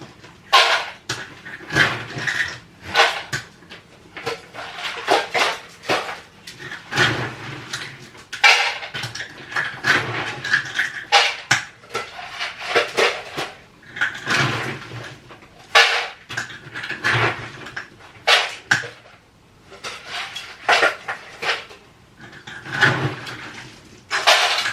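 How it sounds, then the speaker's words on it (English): Several dogs eat dry kibble from bowls, a steady clatter of crunching and bowls knocking on the floor with busy, irregular bursts throughout and no talking. "And then I give the dogs kibble."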